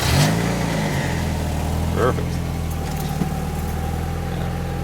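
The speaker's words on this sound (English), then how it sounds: "now we're going to turn it on and make sure she starts and make sure she's running properly" A 1991 Mazda Miata MX-5 engine turns over and catches after an engine temperature sensor replacement, then settles into a steady, close idle while a voice speaks briefly.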